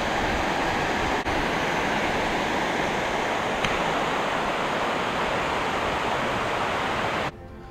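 Small waterfalls in marshland at Habarana, Sri Lanka, giving a dense, steady rushing of falling water that stays constant and fairly loud before cutting out abruptly near the end.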